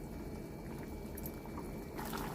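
Squid masala in a pan simmering with kokum just added, a steady close bubbling and liquid hiss running throughout with no talk.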